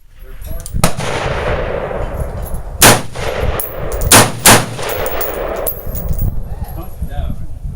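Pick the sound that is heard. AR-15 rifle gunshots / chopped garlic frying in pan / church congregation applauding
AR-15 rifle gunshots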